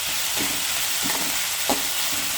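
Mustard seeds, chana dal, curry leaves, dried red chili and onion tempering in hot oil in a pan, a dense continuous sizzle with a few soft stirring scrapes.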